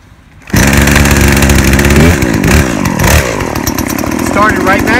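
A new Poulan Pro 18-inch 42cc two-stroke chainsaw fires up abruptly and runs loud and close, its buzzing engine revving up and dropping back several times with a harsh, rattling drone.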